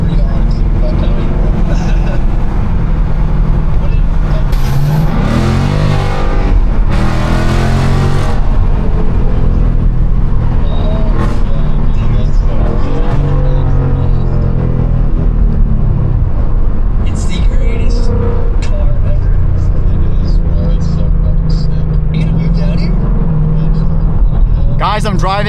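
Straight-piped Mustang GT with a 10-speed automatic, heard from inside: a loud, raw exhaust roars through repeated upshifts and revs, and someone talks over it at times.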